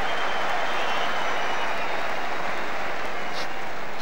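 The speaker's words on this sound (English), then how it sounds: "getting a huge round of applause for his first touch" Dense, sustained crowd applause fills a football stadium during the Manchester United versus European XI Munich memorial match, a loud, continuous roar of clapping with no break.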